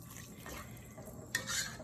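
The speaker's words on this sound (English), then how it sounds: "I'm gonna add some water." Water splashes into a cooking pot holding chicken broth, a brief soft pour that swells slightly toward the end, close and fairly quiet.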